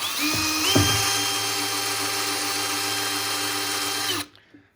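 A power drill with a dull bit bores a hole for an SO259 bulkhead in a NEMA antenna box, whining at a steady high pitch for about four seconds before spinning down and stopping abruptly.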